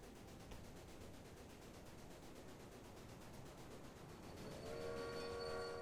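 A train rolls steadily in the Railway Empire video game on a Southwestern Pacific Railroad run from San Francisco to Sacramento through a tunnel. It gives a continuous low rumble, and a tonal horn-like whistle rises near the end.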